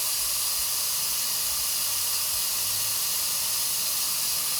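A vacuum brake bleeder draws air out of a Harley-Davidson Road Glide brake caliper, producing a steady, fairly loud pneumatic hiss that runs without a break and with no voices.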